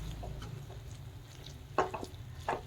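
Spatula stirring mushroom roast in a pan, a few soft scrapes and taps at uneven intervals over a low, quiet background hum.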